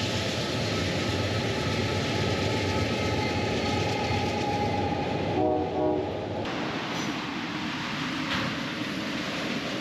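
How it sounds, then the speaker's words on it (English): A train emerging from a tunnel rumbles past loudly and steadily, with a brief train horn blast midway and faint clattering wheels, no voices. "we were treated to the sights and sounds of a train emerging from the tunnel"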